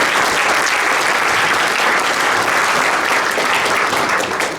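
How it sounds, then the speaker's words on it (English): Campaign rally audience for a DuPage County circuit judge candidate breaks into loud, sustained applause, a dense wash of clapping hands that stays steady throughout before easing slightly at the very end. "Let's give him a big applause as well."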